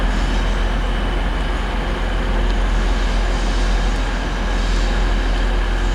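A train at Doncaster station gives a steady, loud broadband rumble with low hum, continuous throughout and no talk.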